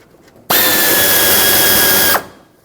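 A cordless power drill driving hood hinge bolts on a 2011-2016 Ford F-350 runs in one loud, steady burst of under two seconds, starting and stopping abruptly, with no talk over it.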